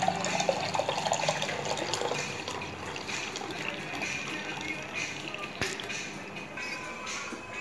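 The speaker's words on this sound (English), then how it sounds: "we have to measure 2 liters of hot water" Hot water pours steadily into a measuring cup for making kombucha, a continuous moderate splashing flow under light kitchen background noise.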